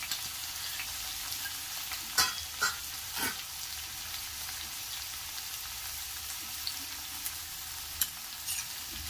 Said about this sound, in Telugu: అల్లం తెల్లగడ్డ పేస్టు 1 స్పూను వేసుకొని ఇలా ఫ్రై చేసుకోవాలి